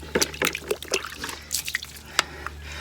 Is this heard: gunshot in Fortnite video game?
no